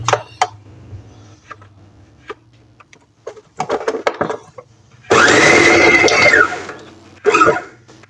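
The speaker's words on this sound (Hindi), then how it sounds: "ये अब इसको हम चॉपर में डाल के थोड़ा सा दरदरा कर लेंगे।" An electric food chopper grinds roasted chickpeas and dates in loud bursts of whirring, a long pulse and a short one, after clattering and tapping while the jar is loaded.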